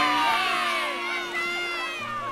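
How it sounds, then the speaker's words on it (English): A crowd of villagers shouting and cheering together in a continuous, loud, excited clamour with high voices, heard over a bright sustained musical backdrop. "Villagers shouting"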